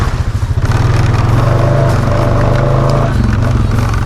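Honda Foreman ATV engine driving through a thick mud hole, a loud, close, chugging engine drone that rises as it pushes through with rumbling, splashing texture.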